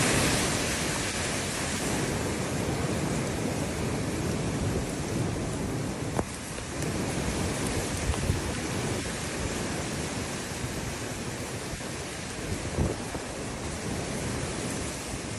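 Heavy rain pours steadily during flooding in northern Italy, a dense continuous hiss with a couple of faint low thumps that may be distant thunder, no voices.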